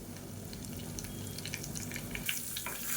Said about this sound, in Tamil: கடுகு சோம்பு பொரிய ஆரம்பிக்கவும்